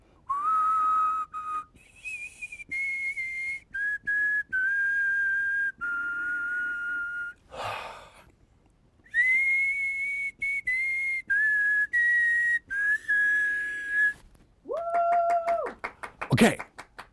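A person whistles close into a microphone in a series of sustained tones at varying pitches, with short breaks between them, a breathy gust partway through and a sharp noise near the end.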